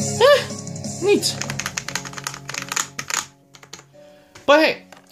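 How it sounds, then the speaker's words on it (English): Typing on a Cooler Master SK560 low-profile mechanical keyboard with Cherry MX Red switches, a close, rapid run of light clacks, with brief vocal sounds at the start and near the end. "That's me reacting to a mechanical keyboard for the first time."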